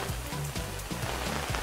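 Rain falling, a steady dense patter across the whole moment, with a faint low repeating thump beneath.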